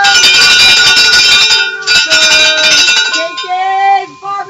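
Bells ring out at a barbecue, loud repeated metallic chimes and clinks with sustained tones, busy and overlapping at first, then thinning into a few clearer ringing notes.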